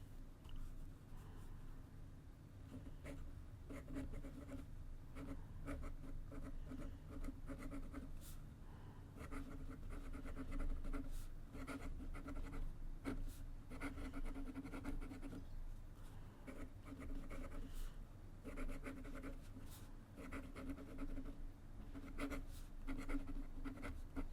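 A PenBBS Year of the Rabbit fountain pen with a gold-plated nib writes steadily on paper, giving a continuous close scratchy whisper with brief lifts and renewed strokes throughout.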